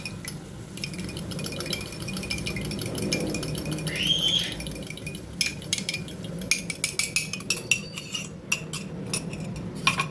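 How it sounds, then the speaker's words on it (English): Quick stirring of beaten eggs in a pan for egg bhurji, a steady clatter of a utensil scraping and clinking against the metal, moderately close and continuous, with no talking. "you need to just give it a quick stir"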